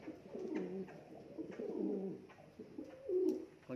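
A pigeon coos in repeated low, soft rolling calls, three phrases at an even pace, moderately close against a quiet outdoor background with small birds nearby.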